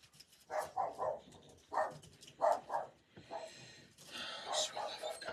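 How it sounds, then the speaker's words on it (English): A dog indoors near an open patio door gives several short, muffled barks and snorting breaths in irregular bursts, fairly faint, with a voice audible at times. "I apologize for the dog."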